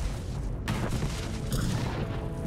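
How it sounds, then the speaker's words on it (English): Explosions from planted bombs in the video game Star Wars: The Old Republic boom out in a rumbling, crackling barrage, with sharper blasts near the start and middle over continuous low thunder. "The explosions going off. It must be the bombs we planted."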